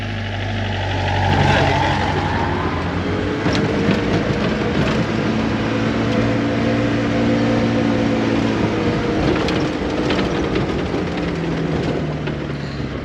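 A Peugeot P4 four-by-four, the French variant of the G-Wagen, is being driven, with a loud steady engine drone and shifting tones close inside the cab, alone without talk.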